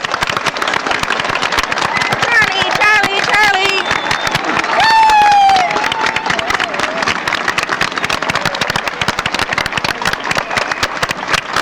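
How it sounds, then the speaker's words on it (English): A large audience applauds the graduating class at a 1976 dental school graduation in Louisville. The clapping is dense, loud and unbroken throughout, with scattered cheers and whistles rising above it. "may we applaud the full graduating class"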